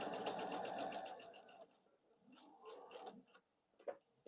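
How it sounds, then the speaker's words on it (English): A sewing machine stitches a quilt block, running steadily and loudly for about a second and a half, then slowing into shorter, fainter bursts of stitching with small handling clicks. "I'm going to sew from here and I'm going to stop before I get to my pins"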